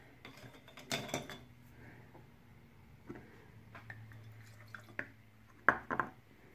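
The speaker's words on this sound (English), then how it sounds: "just by putting the brushes into another jar." Paint brushes are dropped one after another into a glass jar, making scattered faint clinks and taps with quiet gaps between, a couple of brighter knocks near the end.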